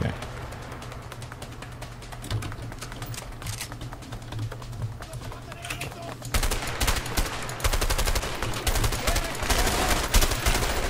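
Gunfire in the video game A Way Out: rapid, dense shooting that grows louder and heavier partway through, under a steady low game hum.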